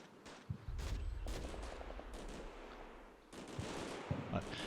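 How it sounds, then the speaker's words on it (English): Mortar shells drop in during a Combat Mission Shock Force 2 battle, with several distant booming impacts and crackling bursts over a rumbling background, fairly faint. "the mortar's starting to drop in"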